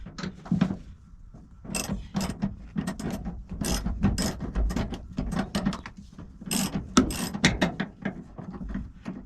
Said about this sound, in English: The next step is to hook the hinge in and start screwing the bolts in.